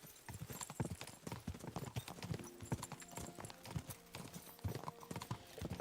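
Rapid, rhythmic hoofbeats of galloping horses in the video game Kingdom Come: Deliverance II clatter continuously, crisp and close, with an occasional faint whinny and a soft musical backdrop.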